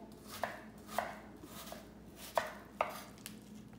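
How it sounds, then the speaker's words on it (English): A kitchen knife chops through an onion on a cutting board while preparing an oil-free creamy mushroom soup: about five crisp, close knife taps at an uneven pace, with no talking. "we're just going to chop this up"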